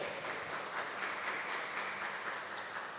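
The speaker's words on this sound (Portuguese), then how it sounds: "Vamos aplaudir Jesus?" Church congregation applauding together during a Portuguese-language worship service, a steady dense wash of clapping that holds evenly throughout without pause.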